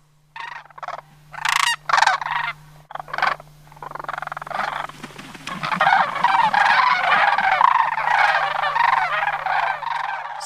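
A goose living among cranes near Homer, Alaska, calls in a run of separate honks that build into a continuous loud, raucous honking chorus, close by, with a steady low hum beneath.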